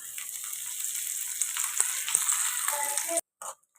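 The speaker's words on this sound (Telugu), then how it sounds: "ఇక్కడ పోపు అయితే ఫ్రై అయిపోయిందండి" Tempering spices with dried red chillies and curry leaves sizzling in hot oil in a kadai, a close, steady frying hiss with a few pops and crackles, then a sudden cut to near silence.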